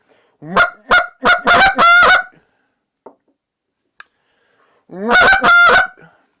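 Several loud, honking notes blown in quick bursts on a Hayes goose call, a pause with a couple of faint clicks, then another loud burst of honks.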